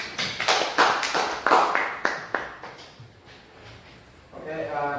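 A few people in an online class give a short burst of hand claps for a student, a dozen or so close, uneven claps that fade out, with a voice over them.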